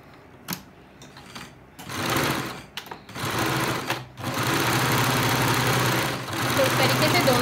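A sewing machine stitches a side pocket onto a salwar, its motor running in several bursts of steady, rapid mechanical whirring separated by short pauses, with a voice talking in between.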